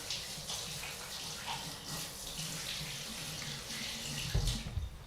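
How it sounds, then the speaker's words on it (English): A kitchen tap runs in a steady splashing stream while hands are rinsed clean of sourdough biscuit dough, the flow shifting slightly and thumping near the end, with no talking. "let me give my hands a quick rinse to get that dough off"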